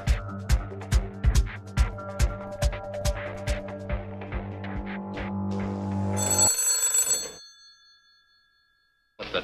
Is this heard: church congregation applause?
no